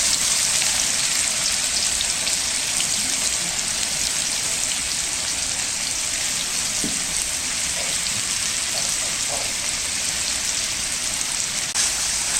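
Chopped onions, four medium ones finely cut, sizzle and crackle steadily in hot oil as a dhaba-style aloo matar curry begins, a dense, even frying hiss that continues without pause.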